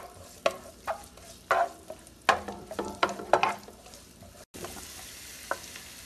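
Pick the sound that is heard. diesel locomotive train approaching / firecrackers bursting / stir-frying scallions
stir-frying scallions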